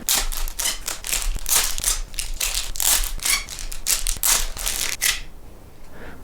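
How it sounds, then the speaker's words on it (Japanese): A Staedtler 925 75 series mechanical pencil package is opened with dense crinkling and tearing of plastic and cardboard for about five seconds, then a few faint rustles. It is close and loud, with no voices. "一番お手頃であるこちらのモデルを開封していこうと思います"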